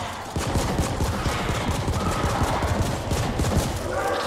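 Rapid gunfire in the sci-fi shooter video game The Ascent, a dense, continuous burst of loud shots with scattered impacts throughout, no voice.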